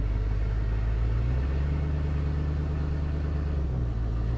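A Ford pickup truck with an E4OD automatic transmission and a Quick Shift 4 install rumbles steadily as it starts to creep forward, its low engine drone loud and close, with a slight shift in pitch partway through.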